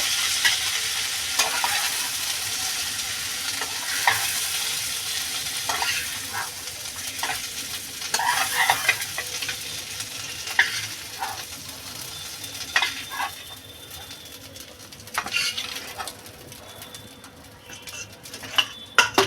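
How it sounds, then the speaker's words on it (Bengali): Prawns for a chingri malai curry frying in oil in a pan, with a steady close sizzle and repeated scraping and clinking of a spatula stirring against the metal, busier in bursts. "বন্ধুরা মাছটা আমার ভাজা হয়ে গেছে মাছটা আমি নামিয়ে নেব"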